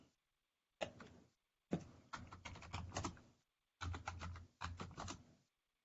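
Bursts of clattering computer keyboard typing while logging in to a Linux terminal, several quick runs of keystrokes separated by pauses, close and clear in a quiet room.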